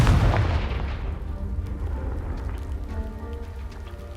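In the Hogwarts Legacy video game, a Confringo fire spell blasts a pile of debris: a loud, heavy boom up front that decays into a long rumbling, crackling wash of falling rubble.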